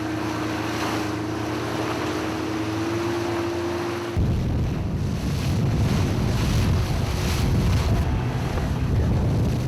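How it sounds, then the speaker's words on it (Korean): A military rubber boat speeds over high waves in bad weather after leaving its mother ship: a steady motor drone gives way to loud rushing wind and water buffeting. "모선에서 고무보트를 분리,"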